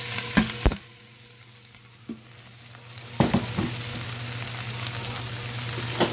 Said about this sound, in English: So to this butter, I'm gonna add all 12 cups of onion.